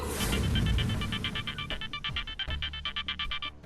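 A phone rings over and over, a fast regular electronic ringtone pulsing in quick bursts, loud and close, starting under a brief mix of other sound and then ringing alone.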